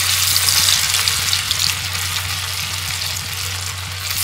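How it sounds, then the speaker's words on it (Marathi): Thinly sliced steamed colocasia leaf rolls (aluwadi) fry in hot oil, giving a loud, steady, close sizzle with bubbling crackle that runs unbroken throughout. "फ्राय करून घेते कापलेल्या वड्या."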